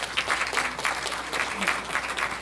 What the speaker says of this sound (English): another round of applause for these two gentlemen